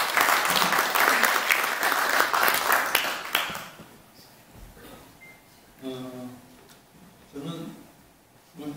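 Audience applause at a Korean book event for a lawmaker's work on a national blackout, welcoming a veteran nuclear scientist to the podium; a strong burst of clapping that fades after a few seconds, followed by someone speaking.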